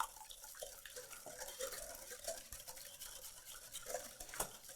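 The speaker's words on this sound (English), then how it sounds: "we're just going to give it a whisk until they combine" Egg yolks are whisked with sugar in a bowl for homemade eggnog: a soft, steady scraping and swishing that carries on without a break, fairly quiet and close, with no talking.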